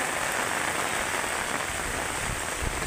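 Heavy typhoon rain pours down steadily in Masbate during Typhoon Kristine, a dense, continuous roar of downpour drumming on surfaces, loud and close with no pauses.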